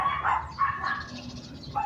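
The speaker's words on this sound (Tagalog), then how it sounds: "Ang ingay ng aso." A dog barks several times in quick yapping bursts, fairly close and moderately loud, with short pauses between the barks in an outdoor garden setting.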